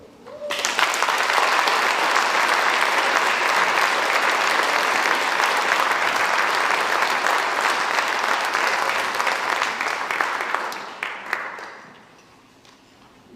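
Sustained applause from a large audience at a high school senior awards ceremony, loud dense clapping lasting about ten seconds before tapering off into quieter room noise.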